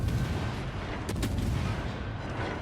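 Destroyer guns fire in World of Warships, a couple of sharp booming shots close together over a constant rumbling battle backdrop.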